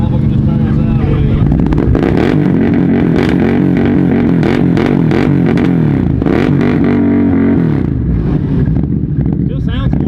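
A Can-Am side-by-side at Busco Beach, just out of a mud hole with a rattle somewhere inside, its engine running loud and close with shifting revs and a rough, throbbing drone, voices talking over it.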